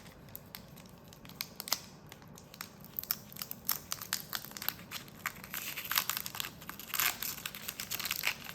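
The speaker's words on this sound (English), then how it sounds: "I gotta get better at opening these packs." Crinkly foil wrappers of trading card booster packs being torn and opened, a run of sharp crackles and rustles that grow busier and louder toward the end, with no talk.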